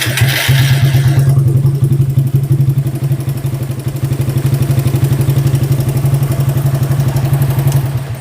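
Motorcycle engine with a loud ticking fault, idling close up with a rapid, steady metallic clatter riding over a low rumble, a brief revving blip at the start, no talk.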